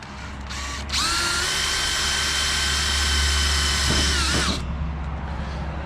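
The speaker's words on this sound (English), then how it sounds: "now I'm just drilling holes in it" A power drill whines steadily at high pitch for several seconds, biting into metal while drilling holes for a custom grille, with a brief start-up burst before and a clean stop after.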